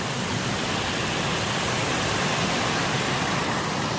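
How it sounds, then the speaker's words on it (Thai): Water flows steadily over a concrete edge, a dense, even rushing wash that stays loud and unchanged from start to finish. "น้ำไหลนะครับ"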